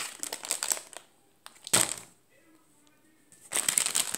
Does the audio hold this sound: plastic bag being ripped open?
yes